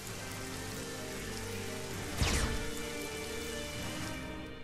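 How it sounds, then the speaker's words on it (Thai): Blood rain pours down in the video game Naruto Shippuden: Ultimate Ninja Storm 4, a steady dense patter of falling drops with a brief louder whoosh midway and no voices. "มีแต่ฝนเลือดคือฝนเนี่ยตกลงมาเป็นเลือดเลยนะฮะ"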